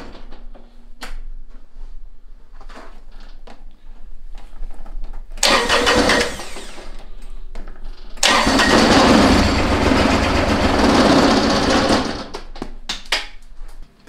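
A Mazda car comes down a driveway, its engine surging in two loud, sustained bursts of roar after a quieter stretch of small knocks and rustles, then dropping back.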